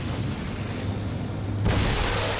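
An explosion in the game XCOM 2, a steady noisy roar that swells into a louder, brighter burst near the end, with no talking.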